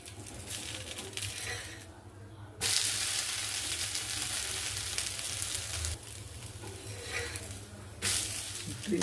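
A thick dosa sizzles steadily in a hot pan as it cooks on both sides, a continuous frying hiss with brief louder bursts, close and alone without talk.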